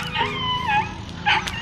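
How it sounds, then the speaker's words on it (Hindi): Dogs howling and yipping outdoors at a plein air painting spot, several drawn-out wavering howls rising and falling, with a louder burst near the end, moderately distant. "कुत्ते भौंक रहे हैं उधर।"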